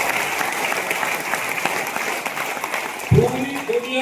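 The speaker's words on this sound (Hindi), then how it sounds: "तालियां बजा लो सर" An audience at a motivational business talk claps steadily for a few seconds, then a voice cuts in over the fading applause.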